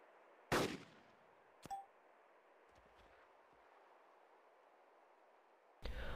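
Sniper rifle fire in the video game DayZ: one loud crack early, a fainter metallic click and ding after it, then another shot starting near the end over a steady background hiss.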